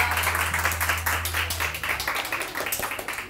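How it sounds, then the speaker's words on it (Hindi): A television morning-show studio audience claps in a steady, pulsing round of applause, moderately loud and close, with a low musical hum underneath at the start. "आप सबकी बहुत सारी तालियां"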